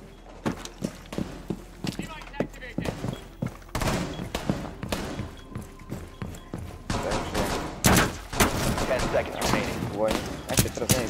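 Rapid bursts of gunfire in the video game Rainbow Six Siege crack repeatedly in clusters, loud and sharp, mixed with footsteps and overlapping speech from players talking throughout.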